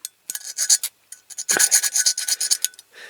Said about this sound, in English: I prefer to use the hand file